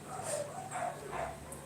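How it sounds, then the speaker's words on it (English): Dogs bark and yip in fear during a rainstorm, their frightened calls short and muffled at a distance over a steady background wash. "howling for their life, barking for their lives"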